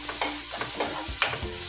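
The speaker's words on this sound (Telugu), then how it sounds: "తర్వాత పోపు పెట్టా, ఆనియన్స్ వేసాను దాంట్లో. తర్వాత పచ్చికారం వేసుకున్నాను. పచ్చికారం మంచిగా ఫ్రై కావాలి." Chopped onions and green chili paste sizzle in a pan for a mixed vegetable curry, with a spoon scraping and stirring in quick, regular strokes close by and no voices.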